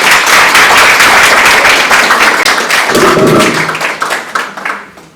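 Audience applause fills a hall at an anniversary ceremony for Jorge Basadre's birth. Dense, steady clapping runs loud, then thins and fades toward the end.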